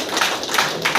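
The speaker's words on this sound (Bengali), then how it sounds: "তার জন্য একটু নিজের জন্য আর হাততালি দেন।" Hands clapping at a gathering where a speaker has asked people to applaud, heard as a few soft, evenly spaced claps within about a second, fairly close and without voices.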